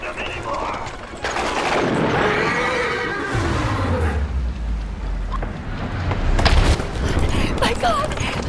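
Horses whinny and neigh loudly over pounding galloping hooves in a dramatic fight, with heavy rumbling movement, shouting voices and action sounds mixed together throughout.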